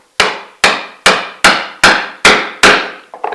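A chisel is struck repeatedly with a mallet to cut a mortise in wood, giving seven sharp, evenly spaced loud knocks, each ringing briefly before the next, close and without talk.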